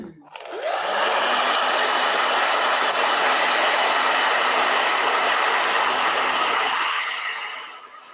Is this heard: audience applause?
no